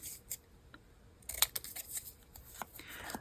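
Scissors trim a small paper word tag, a few quick, sharp snips with a brief rustle of paper, close and quiet, with no voices.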